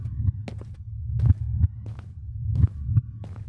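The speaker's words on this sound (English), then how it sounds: "It sounded like some disorderly heartbeat, which wasn't my own." Pumping heartbeat sound effect, a deep muffled thumping that comes in irregular clusters over a low steady throb, close and moderately loud with no voices.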